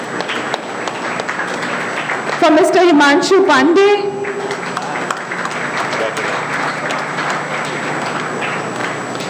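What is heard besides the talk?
audience applause at a meeting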